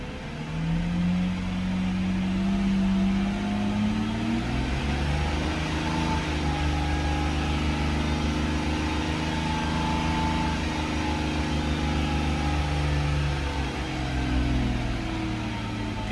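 Engine of a 2001 Mercedes-Benz CL600 held at changing RPM, a smooth, steady hum whose pitch climbs early and then settles into an even drone, heard close with no talk.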